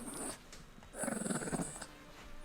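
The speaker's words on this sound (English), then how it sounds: "What are you growling at?" A dog growls close by in two low, rumbling bursts, the second longer and louder, with a short quiet gap between them and no talking.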